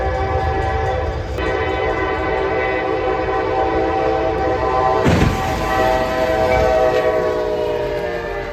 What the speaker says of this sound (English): Truck stuck on the tracks, train closing in, and then impact.